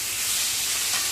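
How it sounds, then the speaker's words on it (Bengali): Fish fries crisp in a hot pan at an island roadside eatery, giving a loud, steady, dense sizzle that runs unbroken for about a second with no talking. "কড়া করে ভাজা হচ্ছে একদম মাছটাকে"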